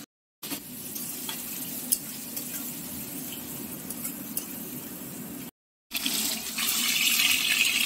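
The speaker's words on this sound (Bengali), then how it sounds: "ভাজার মধ্যে দিয়ে দেওয়া হলো কেটে রাখা ছোট ছোট করে বেগুন" Small cut brinjal pieces fry in a pan with salt and turmeric, giving a steady sizzle with light stirring scrapes, broken by two brief silent gaps and growing louder near the end.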